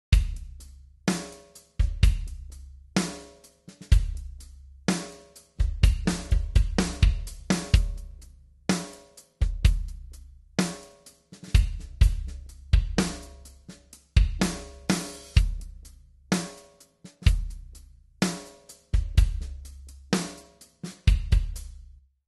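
A rhythmic band recording with punchy drums and full instrumentation, processed through a room reverb plugin for a natural room ambience. Loud and steady throughout, with no talking.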